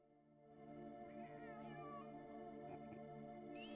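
Cats meow and caterwaul in a scene from the TV series Dead Boy Detectives, season 1 episode 5, with several wavering, rising cries over a steady, tonal background hum; no talk.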